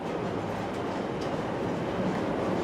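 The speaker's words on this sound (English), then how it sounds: "So this train has just come in and arrived." A train arriving at a station in the Rail Route railway simulation game, heard as a steady, even rumble of rolling stock with a faint metallic clatter throughout, no voices over it.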